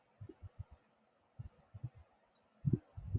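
Soft mouse clicks in quick clusters at a computer running SketchUp, quiet and close, with short pauses between bursts and no speech.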